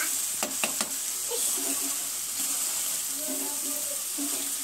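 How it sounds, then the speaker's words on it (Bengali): Washed rice is stirred and fried with spice masala for egg biryani, giving a steady close sizzle with a few sharp scrapes of the spoon near the start and soft stirring noises throughout. "আর চালটা যখন ছেড়ে ছেড়ে আসবে তখন বুঝতে হবে যে চালটা ভালোভাবে ভাজা হয়ে গেছে।"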